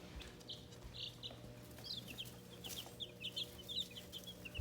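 Week-old chicks cheep in a box, a quiet, scattered series of high peeps and chirps over a low steady background hum.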